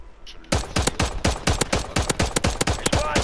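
Rapid gunfire in Warzone 3, a steady run of sharp, loud shots fired close after a brief quiet start, with no speech over it.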